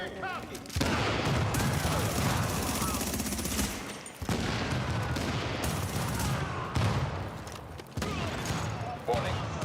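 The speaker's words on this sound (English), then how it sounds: "some shooting" Sustained automatic gunfire in The Division 2, dense rattling bursts that run almost without a break, loud and close, with brief gaps between volleys and a voice mixed in.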